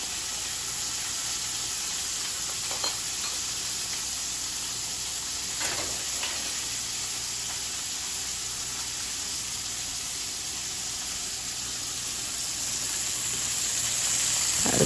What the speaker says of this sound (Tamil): ஹை ஃப்ளேமில் வச்சு தான் நீங்கள் இது குக் பண்ணி எடுக்க வேணும்